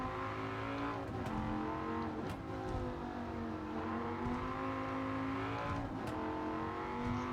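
A Dodge Viper GSRT10 Coupe '06 racing in Gran Turismo 7 on Tokyo Expressway, its engine holding a steady loud drone with gently rising and falling pitch, a few brief tire or contact noises on top.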